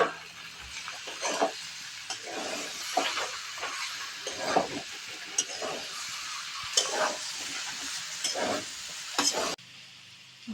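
Potatoes and soybeans frying in oily spice masala, sizzling steadily while being stirred in repeated close scraping strokes, then the sound drops away abruptly near the end.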